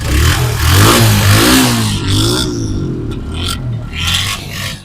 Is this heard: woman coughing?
no